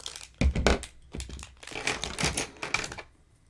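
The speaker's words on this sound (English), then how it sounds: "Let me open those because there's a lot of glare off that plastic." Plastic packaging holding big black buttons is torn and crinkled open, giving uneven bursts of crackling and rustling at close range with no talking.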